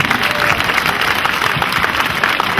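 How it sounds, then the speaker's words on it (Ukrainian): Audience applause fills a theatre-studio anniversary celebration, a dense, steady wash of clapping from many hands throughout, close and loud with no voices rising above it. "Оплески."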